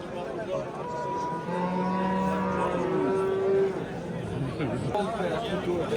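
Cows and calves moo at the Angren cattle market, with several long, low moos rising over a constant hubbub of chattering people and crowd noise.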